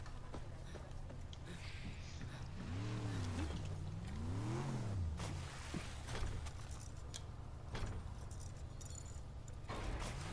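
A vehicle spawned in the video game Far Cry New Dawn revs its engine in two rising and falling sweeps amid steady in-game rumble and clatter.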